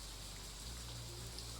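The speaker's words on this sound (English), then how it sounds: "It's raining again" Steady rain falls, a soft, even patter and hiss over a low background hum, faint and continuous throughout the short stretch.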